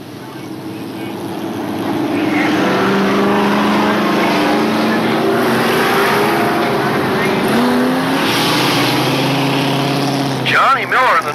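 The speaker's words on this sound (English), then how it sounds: "Jeff gets his car, truck, running again and moving out of the way." Race truck engines at Desoto Speedway, a loud sustained roar of motors revving and shifting pitch across the track, with an announcer talking over it throughout and a brief clatter near the end.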